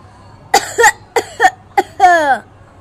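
During a children's poetry recitation, a young voice gives a run of about five close, loud, dry coughs in quick succession, the last one drawn out and rasping, acted out as part of the performance.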